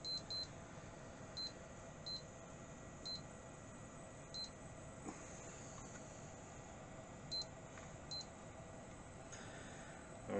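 Short electronic beeps from a PC being powered on recur at irregular intervals, two or three quick chirps at a time, over a steady hum of fan-like background noise.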